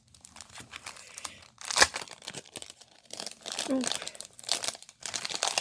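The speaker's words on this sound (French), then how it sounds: "je les sors de l'emballage" Plastic packaging crinkles and tears in short, close bursts as newly bought items from a NOZ haul are unpacked, with a loud crackle near the start and a person talking throughout.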